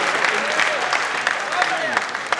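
Audience applause at a Hindi comedy poetry gathering, a steady wash of many hands clapping continuously through the moment, with voices mixed into the crowd noise.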